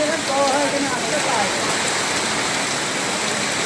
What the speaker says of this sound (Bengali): ভালো বৃষ্টি হচ্ছে, একরকম ভালোই বৃষ্টি হচ্ছে।